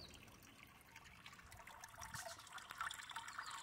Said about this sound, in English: So here's a half wine barrel that I just cobbled together and made a little water fountain out of to attract the birds.